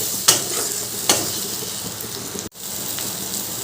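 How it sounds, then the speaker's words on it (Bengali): Potatoes sautéed with a spice paste in a pan give a dense, close sizzle, punctuated by two sharp spoon clinks and a brief dip where the sound cuts out before resuming. "দিয়ে ভালো করে কষিয়ে নেব"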